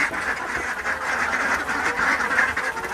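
Ducks quack continuously in a noisy, busy outdoor scene, several birds calling over one another.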